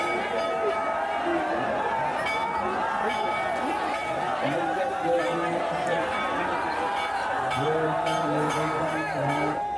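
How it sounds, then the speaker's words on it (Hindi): Thousands of devotees fill Manikarnika Ghat in Varanasi on Mahashivratri, a continuous bustling hubbub of many voices with scattered clinks and movement, steady throughout. "मणिकर्णिका घाट पर श्रद्धालुओं के भीड़ महाशिवरात्रि के मौके पर जबरदस्त जोश उत्साह के साथ यहाँ पर हजारों की भीड़ है"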